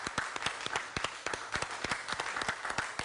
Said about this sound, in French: Applaudissez Emma Loès, s'il vous plaît, ce soir.